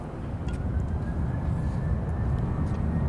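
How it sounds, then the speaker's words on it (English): Boeing 737-800 airliner on a flight to Atlanta, a steady loud jet roar that holds evenly throughout with a faint high whine above it, heard at an airfield with no talk. "Here's the flight to Atlanta, 737-800."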